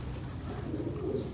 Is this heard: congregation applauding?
no